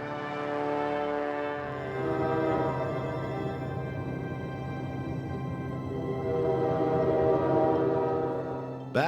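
An Alaska Railroad passenger train running, a sustained low rumble with steady harmonic tones like a horn or engine drone throughout, fairly loud and continuous, ending in a brief rise.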